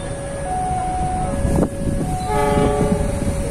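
A train rumbles past close by, its steady horn blaring throughout with tonal blasts layered over the rolling noise.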